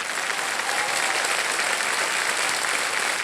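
A television quiz show studio audience applauds loudly for the full three seconds, a dense, steady wash of clapping with no voices standing out.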